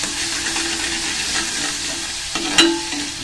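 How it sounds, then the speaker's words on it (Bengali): Spice paste for egg curry sizzles loudly in hot oil in a pan while being stirred, giving a steady close hiss with a few soft scrapes and a sharper clink near the end. "এটাতে একটু ভালো করে নেড়ে নেবো।"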